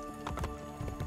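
Horse hooves clip-clop in uneven beats during a horse fight in Assassin's Creed Brotherhood, with a brief whinny-like burst among the steps, all fairly faint and without talk.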